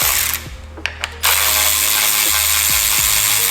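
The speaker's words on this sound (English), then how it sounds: "Once you go electric ratchet, you can't go back." An electric ratchet spins bolts on a 1991 BMW E30, sounding as loud, close mechanical whirring bursts, with one short stretch and two quick blips followed by a longer continuous run.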